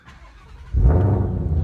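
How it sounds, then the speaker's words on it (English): A 2020 Shelby GT500 V8 starts up after a quiet moment, the engine catching abruptly and settling into a loud, deep, steady idle rumble close by. "I think I'll have to turn the car on for this"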